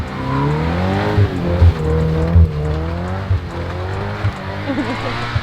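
Scion FR-S rally car driving on a loose surface, its engine droning steadily close by with brief bursts of tire skid and revving, and low voices talking inside the car throughout.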